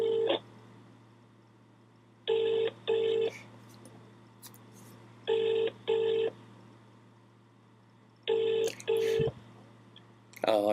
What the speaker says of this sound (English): Let's give him another bell.